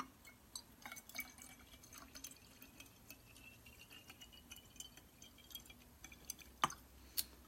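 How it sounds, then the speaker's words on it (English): Half a cup of water trickles and drips into a homemade all-purpose cleaner, faint irregular splashes and drops scattered across a quiet room with a couple of sharper clinks near the end. "and then you'll have half a cup of water"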